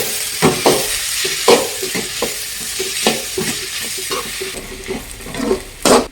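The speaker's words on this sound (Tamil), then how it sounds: "வெங்காயம் வந்து நல்லா வதங்கிடுச்சு." Onions sauté in a pan under a constant sizzle, with repeated close scraping and knocking strokes of a spoon stirring against the metal in an uneven rhythm.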